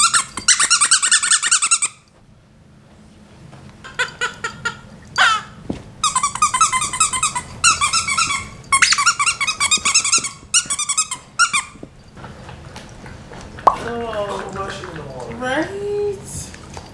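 A wet, messy goldendoodle puppy makes a series of high squeaky whines and yips in bursts, with pauses between, ending in a rising whimper, while people talk nearby.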